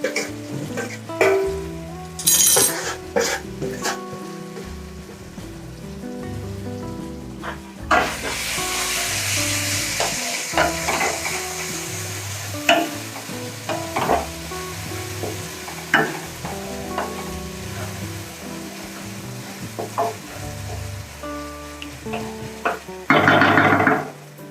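Chillies and ginger sizzling and frying in a pan for a masala dosa filling, with a steady hiss and repeated clatters of stirring, louder bursts near the end.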